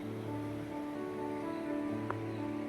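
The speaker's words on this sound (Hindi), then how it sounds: "और ये झरना बहता हुआ जा रहा है।" A mountain waterfall on the Madmaheshwar trek rushes in a steady, broad hiss, constant and fairly close throughout, with a faint tonal hum underneath.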